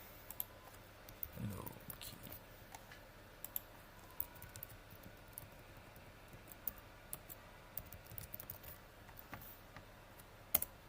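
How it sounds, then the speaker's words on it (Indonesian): A computer keyboard being typed on to enter a locate command in a terminal: sparse, quiet, irregular key clicks with small bursts, close by and alone. "Kita akan ketikkan locate."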